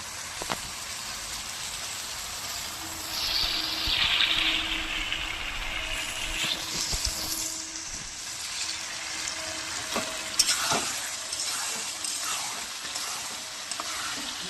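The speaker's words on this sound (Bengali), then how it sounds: "ম্যারিনেট করে রাখা মাংসটা আমি এর মধ্যে দিয়ে দিলাম।" Marinated mutton frying in a hot pan, a steady, loud, rain-like sizzle and crackle that continues throughout, with occasional clicks and utensil taps.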